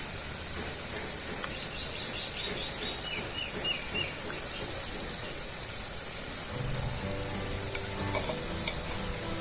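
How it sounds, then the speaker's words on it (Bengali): Ginger and garlic paste fry with onion and tomato in a pan for a dhaba-style chicken curry, giving a continuous hissing sizzle with light stirring scrapes, close and steady throughout. "এইবার দিয়ে দেবো আদা এবং রসুন বাটা।"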